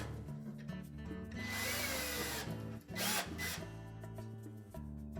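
A power drill whirs in short bursts while backing a screw out of an LG dryer's blower housing, close and moderately loud, with a brief pause and motor hum in between.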